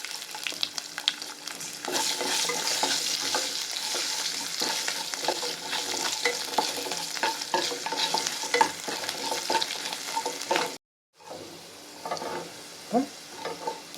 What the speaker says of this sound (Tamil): பாதி வதங்கிடுச்சு பாருங்க.